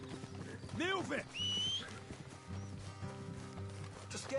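A horse neighs once, followed by a few hoof clops, with voices and a musical background underneath.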